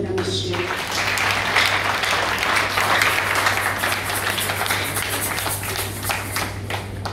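Concert audience applauding a performer after a major show in the DRC capital, a dense steady wash of clapping with crowd noise, sustained and fairly loud throughout, with a low hum underneath.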